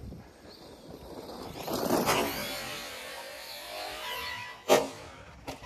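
An Arrma Kraton 4S BLX V2 RC car rips across dirt and spins out, giving a low, gritty motor whir with scattered crunches and a couple of sharp bursts near the end.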